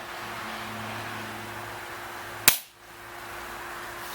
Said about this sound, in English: So we're going to put 3 rounds through this chronograph right now.